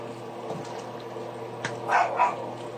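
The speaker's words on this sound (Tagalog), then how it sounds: "Ay, ang ingay talaga ng aso namin." A dog barks a few times, short and somewhat muffled, over a steady low background hum.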